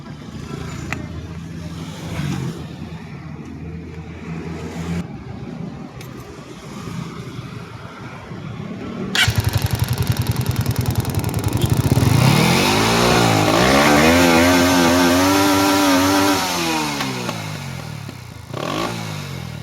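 An NS150 motorcycle engine with a misfire despite a cleaned carburetor idles unevenly, then is revved hard in rising and falling sweeps close to the microphone, with brief talk in the background before the revving.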